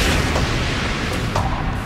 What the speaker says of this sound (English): light off the charges inside, blow the can up into the air